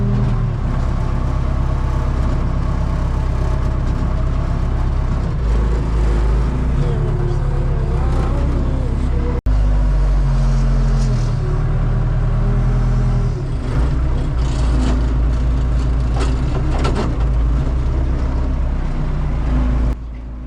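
A backhoe's diesel engine runs loud and steady at close range, its note rising and falling as the machine drives in and dumps scoops of fill to spread for grading.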